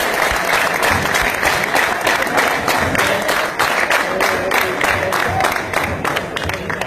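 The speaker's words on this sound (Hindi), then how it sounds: "तालियों की गूंज ही बता रही है कि आपने इस शॉर्ट फिल्म को खुद एंजॉय किया है।" An audience claps loudly and steadily after a short film screening at a university competition, a dense even wave of applause that holds throughout and tapers slightly near the end.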